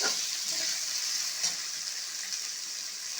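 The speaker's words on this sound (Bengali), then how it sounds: "দিয়ে মশলাটা ভালো করে আমি কষিয়ে নেব" Spices and tomato sizzling steadily in a pan for a yam curry, a close continuous frying hiss with a faint stir or clink, no talking.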